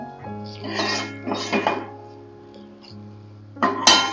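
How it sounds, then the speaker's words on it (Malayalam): Cooked bhindi masala is moved from a pan into a vessel with a few separate metallic clinks and scrapes of a spoon against cookware, set apart by quiet gaps, with a sharper clatter near the end. "നമ്മൾ സ്റ്റവ് ഓഫ് ചെയ്തിട്ട് ഈ മസാലകൾ നമ്മൾ ഒരു പാത്രത്തിലാക്കാം"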